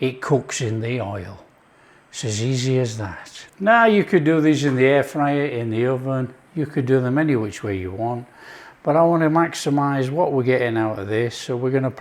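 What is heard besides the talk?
No distinct noise like a dog, phone or traffic.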